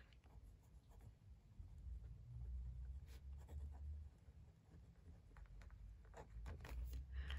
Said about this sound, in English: I do need to write in that it's Marcus Aurelius. I need to put like a quote mark around it